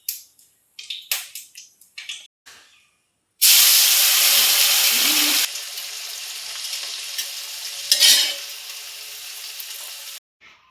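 Oil and turmeric-coated fish hit a hot pan, erupting into a loud burst of hissing sizzle after some scattered clatter, then settling into a steady frying hiss with a brief flare near the end.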